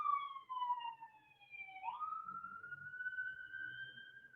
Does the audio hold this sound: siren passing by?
yes